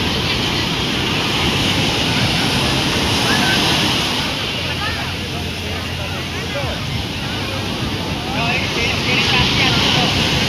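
Large sea waves crash and surge on Puri beach in a loud, continuous roar, their swell rising and falling under gusts of wind noise.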